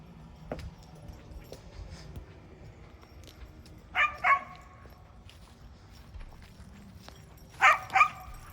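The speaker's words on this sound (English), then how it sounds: "While the doggies play." Dogs playing outdoors give two short bursts of yipping barks spaced a few seconds apart, over quiet background rustle and faint handling noises.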